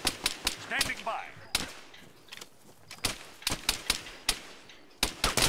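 Gunfire in Arma 3, sharp rifle shots cracking in irregular single and double bursts, some close and loud, others fainter, with a voice briefly heard among them.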